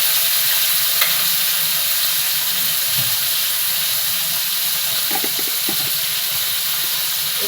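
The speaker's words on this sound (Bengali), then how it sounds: "চিংড়িটা ভাজার সময় একটু পরিমাণে নুন দেবো।" Prawns fry with a little salt in hot oil, giving a steady close sizzle with occasional spatters and faint scraping stirs over several seconds.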